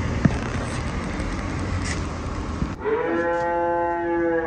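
A cow moos loudly and close, a long low drawn-out call that follows a stretch of rough background noise.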